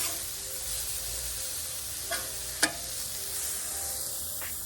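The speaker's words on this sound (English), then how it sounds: "flip some burgers" Burgers frying on a grill give a steady, soft sizzle that runs throughout, with a couple of brief sharper pops or scrapes partway through and no voices.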